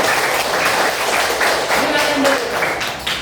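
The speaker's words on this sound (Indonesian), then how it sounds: "Tepuk tangan kita semua." A class of students applauding in a classroom lesson, a brisk burst of clapping close by with voices mixed in beneath it.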